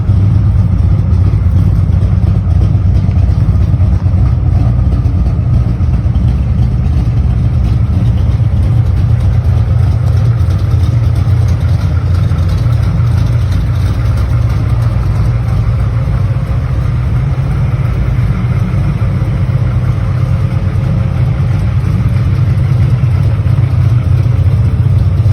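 1989 Pontiac Firebird Trans Am GTA engine running steadily, a loud, deep idle with a slight swell partway through, close and continuous with no talking.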